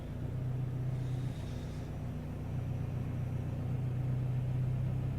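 A Woolman 2.5L engine with a G30-770 turbo and a flex-fuel ethanol setup idles with a steady, close low rumble. The drone holds even for several seconds with only a slight shift in tone.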